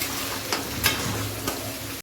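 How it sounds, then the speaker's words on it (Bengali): Chopped onions frying in hot oil make a dense, close sizzle, broken by a few quick scrapes of the stirring spoon. "পেঁয়াজটা ভাজা হয়ে গেছে"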